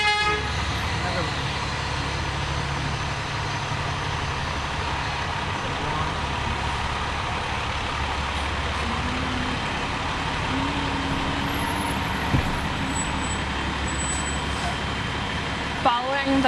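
Fire trucks in a Memorial Day parade honk repeatedly over heavy engine rumble and crowd noise, with short horn blasts scattered through the procession and an announcer talking over it.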